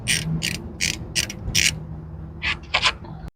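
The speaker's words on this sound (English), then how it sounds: "now I'm going to go ahead and remove this bolt right here." Ratchet wrench loosening a bolt on an AC line of a Honda Civic, a run of about five quick clicking bursts then a few more after a pause, close and fairly loud with no talking.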